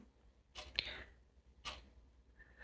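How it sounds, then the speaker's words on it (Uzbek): A clock ticks a few times in a quiet room, the sharp clicks spaced about a second apart and fairly faint. "Soati ovozi o'tyapti"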